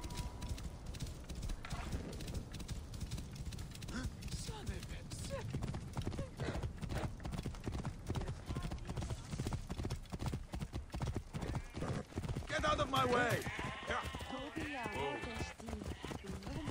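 Horse hooves clip-clop steadily as Bayek rides through Assassin's Creed Origins, with a brief neigh and game music layered over the continuous gallop, loud and close throughout.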